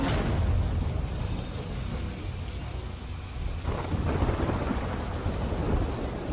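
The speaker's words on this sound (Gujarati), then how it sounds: "સુરતમાં વહેલી સવારથી અનરાધાર વરસાદ વરસી રહ્યો છે" A dense, loud monsoon downpour in Surat, India roars continuously, rain hammering surfaces close by with a low rumbling undertone and no voices.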